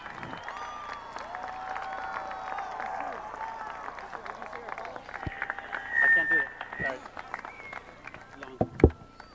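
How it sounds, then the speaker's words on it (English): Applause from a crowd at a high school graduation ceremony, a sustained patter of many hands clapping with voices mixed in, swelling briefly before tapering off. "let's give these students a round of applause."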